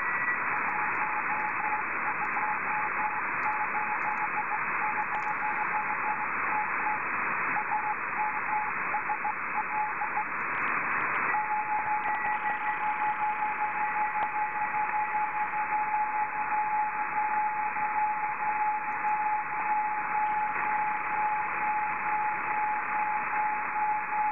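A steady hiss of radio static with a faint continuous beacon tone running through it, received from 410 miles away, unchanging and fairly loud for the whole stretch.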